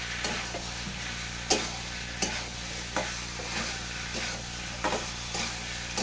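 Boiled potatoes and chickpeas are stirred in a pan, making soft scraping strokes broken by occasional sharp knocks of the utensil against the pan, over a faint steady sizzle, close up and with no talking.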